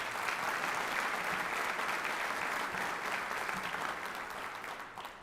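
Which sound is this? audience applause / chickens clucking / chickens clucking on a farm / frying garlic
audience applause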